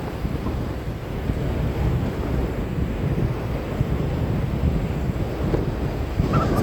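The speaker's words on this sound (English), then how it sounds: "Faster walking with the wind to your back." Strong wind buffets the microphone on a beach walk, a steady low roar and rumble that lasts throughout, with surf likely mixed into the blustery noise.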